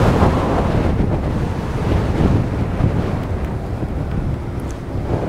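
Strong wind roars across the microphone on a cold, blustery day while riding a Huck Cycles Stinger 3000 electric motorbike, a loud, steady rushing buffet with no voices.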